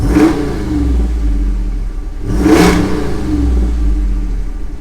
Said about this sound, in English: let's give this a few blips of the gas here